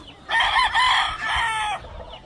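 A Kelso gamefowl rooster on a Hawaii bird farm gives one loud, close crow, a long drawn-out call with a short break in the middle, standing out against a quiet background.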